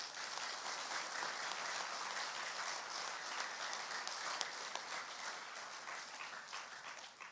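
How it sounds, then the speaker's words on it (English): Sustained audience applause at an elementary school awards ceremony, steady and fairly loud throughout with dense overlapping claps and no speech. "So let's give them another round of applause."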